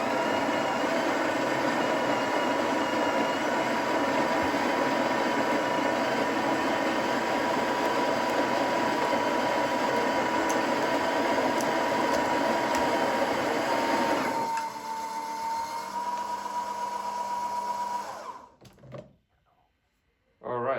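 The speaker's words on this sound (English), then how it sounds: "So yeah, it grinds, it doses, it polishes and presses the coffee in place." A Breville Oracle BES980BKS espresso machine grinds and doses coffee with a loud, steady whirring hum close by, shifting pitch near the end before cutting off into near silence.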